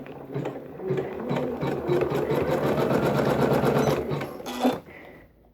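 An embroidery machine stitches the first row of a quilt block, a steady rapid needle clatter running continuously for several seconds before stopping abruptly near the end.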